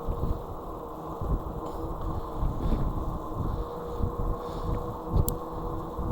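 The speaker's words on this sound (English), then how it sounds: "The trees are somewhat blocking the wind, but it's gusting." Gusting wind on a wooded off-road single-track trail, a steady low buffeting rumble across the microphone that swells and eases slightly, with no voices.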